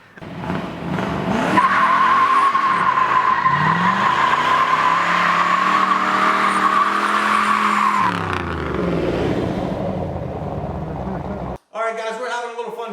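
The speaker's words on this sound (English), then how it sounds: "go out in the driveway and do a couple of burnouts with it and see how good he is at smoking the tires" A 1969 Yenko muscle car does a burnout in a driveway, its engine revving hard as the tires squeal loudly and continuously for several seconds before the engine drops away, and a voice speaks at the end.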